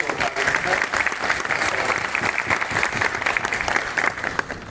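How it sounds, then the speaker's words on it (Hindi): A crowd claps loudly and continuously, a dense burst of applause that holds steady throughout, with no talking over it. "जोरदार तालियों।"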